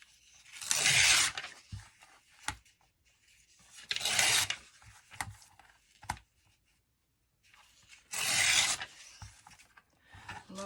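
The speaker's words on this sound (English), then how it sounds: "Lovely sound of tearing paper." Paper being torn in three separate bursts, each a sharp ripping lasting about a second, close up, with quiet rustling and pauses between; white edges torn off craft paper.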